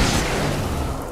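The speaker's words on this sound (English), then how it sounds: "Why don't we flashbang this lot?" A flashbang detonates in the video game Alan Wake, a loud, broad blast already at full force that rolls on briefly with a rumbling tail, with no voices over it.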